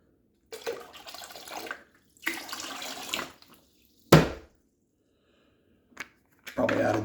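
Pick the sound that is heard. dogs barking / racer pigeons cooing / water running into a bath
water running into a bath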